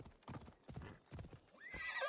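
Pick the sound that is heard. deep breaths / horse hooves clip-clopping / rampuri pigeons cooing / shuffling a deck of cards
horse hooves clip-clopping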